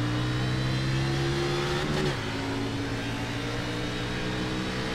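Race car engines in an iRacing NASCAR Xfinity game accelerate together at the green flag, a loud steady drone whose pitch shifts as the cars pick up speed, with no talk over it.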